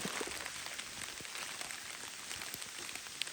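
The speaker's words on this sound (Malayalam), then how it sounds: "മഴ പെയ്തു" Steady light rain patters softly on surfaces all around near Kakkayam Dam forest in Kerala, a faint, even hiss with scattered drops and no voices.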